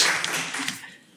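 Short burst of applause in a city council meeting at a Paris arrondissement town hall, a room of hands clapping that fades out within a second.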